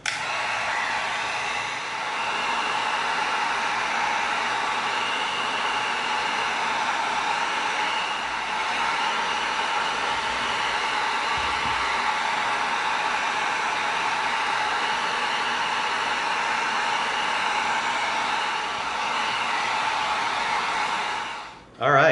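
A heat gun blows continuously at close range while sealing EVA foam, producing a steady, loud whooshing hiss that holds for about twenty seconds before cutting off abruptly at the end.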